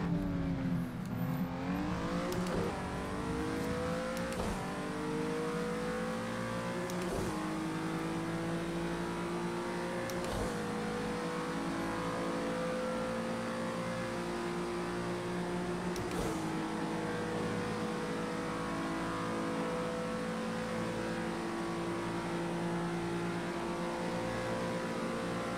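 Honda NSX engine in a racing video game at Le Mans, loud revving that climbs repeatedly through the gears with sharp shift breaks every few seconds, continuous and close.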